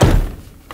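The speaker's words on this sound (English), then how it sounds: "Now let's test our inside door handle." Inside door handle of a 1994–2004 Chevy S-10 door being worked, a single short close thunk of the latch with a dull thud that quickly dies away.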